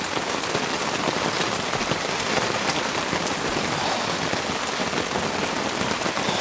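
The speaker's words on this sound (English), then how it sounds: "The rain is so heavy, I'm so wet." Heavy rainstorm drumming on a camping tent, a dense, steady hiss of drops pattering loudly and evenly on the fabric with no pauses and no voices.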